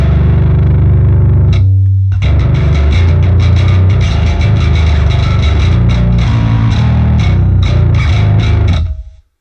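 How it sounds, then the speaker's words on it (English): A distorted bass guitar plays thick, growling low notes with a gritty edge, chugging steadily before cutting off abruptly at the end. "so I want some of that low end distortion"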